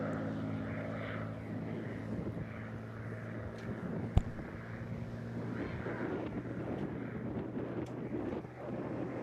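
A WWII-era propeller warplane, delivered to the US Army Air Force in 1945, flies at a seaside airshow with a steady droning engine roar and wind buffeting the microphone, plus one brief sharp click midway.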